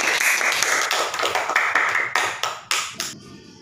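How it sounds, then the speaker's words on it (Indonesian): A classroom of pupils applauding a classmate, a dense burst of many hands clapping that thins into a few scattered claps and then stops. "tepuk tangan dulu untuk Meli"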